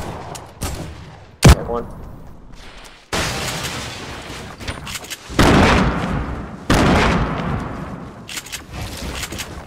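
Gunfire in a video game: several loud, sharp shots and short bursts ring out with booming tails between quieter stretches, and a voice briefly speaks.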